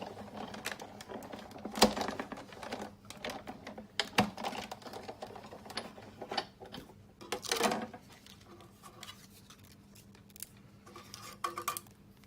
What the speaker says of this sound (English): Pop the cutting plate on top, and I'm just going to run that one through.